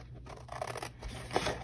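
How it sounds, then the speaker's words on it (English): Scissors snipping through printed paper to cut out a small treat box, a few quiet crisp cuts in quick irregular succession, close and faint. "I am just going to simply use my scissors and cut out my box."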